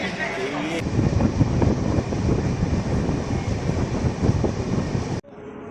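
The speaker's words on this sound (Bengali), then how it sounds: "ট্রেন এই যে প্ল্যাটফর্ম ছেড়ে চলে যাচ্ছে" The Ganadevta Express pulls away from the platform at Prantik station. A loud, continuous rumble and rattle of the rolling train fills the scene for about five seconds, then drops off abruptly.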